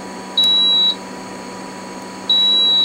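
A multimeter on continuity test while a Sony Walkman is being repaired gives two clean, sharp electronic beeps, the first about half a second long and the second starting near the end, over a low steady hum.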